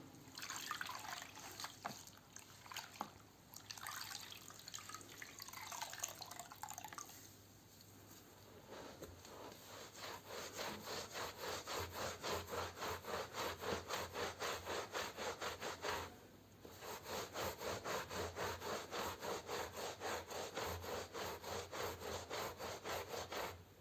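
A wet tulle cloth, dipped in a cleaning solution made from a dissolved tablet, rubs over a stained carpet in steady, rhythmic back-and-forth strokes. The scrubbing is close and continuous, pausing briefly midway, with no talking.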